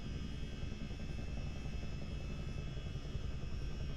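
A Chinook CH-47D helicopter in a flight simulator drones with steady rotor and turbine noise, a constant dense hum holding at an even, moderate level throughout.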